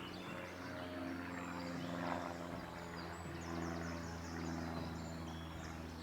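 Propeller planes flying overhead doing aerial manoeuvres make a continuous droning engine hum with a rising and falling pitch, moderately distant, with no talk.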